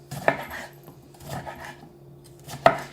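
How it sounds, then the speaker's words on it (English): Knife cutting thick tomato slices on a board, with two sharp chopping knocks about two seconds apart and a softer cut between them, close and otherwise quiet. "We're going to take our tomatoes and we're just going to cut quite thick slices."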